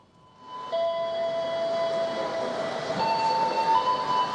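Train at Pasar Senen railway station in Jakarta, a steady rumbling hum with sustained high tonal squeal lines, likely brakes or wheels, rising after half a second and continuing close and loud.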